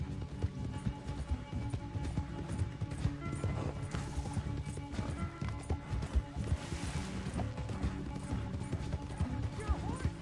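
Horse hooves gallop in the video game Red Dead Redemption 2, a steady rapid clip-clop rhythm throughout, mixed with game sound and occasional whinnies.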